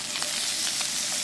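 Potatoes sizzling steadily in a hot pan, with a few soft scraping stirs breaking through the constant close frying hiss.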